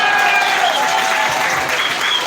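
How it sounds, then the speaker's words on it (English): Loud, sustained applause from an audience at a launch event in Zambia, dense clapping filling the room without a break. "Please let's give a round of applause"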